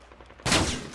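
Gunfire in a multiplayer shooter video game: a sudden loud burst of shots about halfway through, after a quieter stretch.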